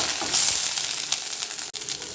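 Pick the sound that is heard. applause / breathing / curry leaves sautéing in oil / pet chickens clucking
curry leaves sautéing in oil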